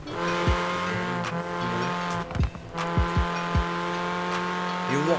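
A Vauxhall Corsa VXR in Forza Horizon 4 holds a steady high engine drone with harmonic whine, broken by several short bursts of tire squeal and gear-change thumps; a voice talks faintly underneath.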